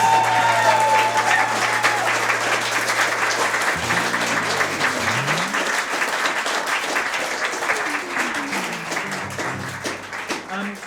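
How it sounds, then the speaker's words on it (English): An audience bursts into sustained, loud applause, dense clapping filling the space for several seconds before gradually thinning toward the end. "A big round of applause for our adventurers!"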